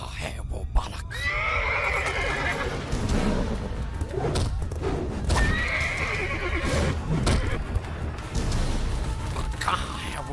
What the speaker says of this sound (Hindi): नई विपदा दानव केशी हिनहिनाते हुए वृंदावन आ पहुँचा।